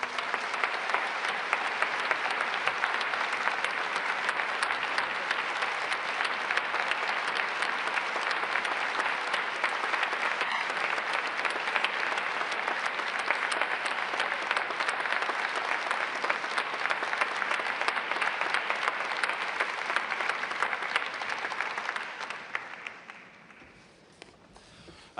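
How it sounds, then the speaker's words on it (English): A Labour party conference hall audience applauds, a sustained, dense crowd clapping lasting over twenty seconds before fading away at the end. "if we could give our platform a round of applause"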